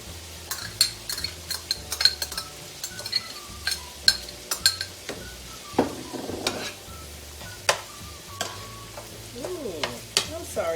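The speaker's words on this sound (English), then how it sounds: "I'm going to put my onions in now" Onions go into a hot pan and sizzle, with scattered utensil clinks, taps and scraping of a spoon against metal at close range.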